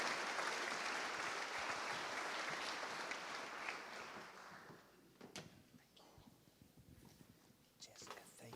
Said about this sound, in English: let's give her a round of applause before we go